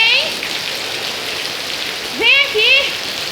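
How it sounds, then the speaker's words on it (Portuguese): Steady rain falls on a garden as a constant, even hiss, while a few brief high whining calls rise over it near the middle and end. "Sai da chuva."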